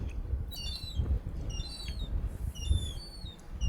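Several birds chirp and tweet in short bursts over a low rumbling outdoor background on a remote island in Sweden's Paternoster archipelago, the calls fairly close and overlapping.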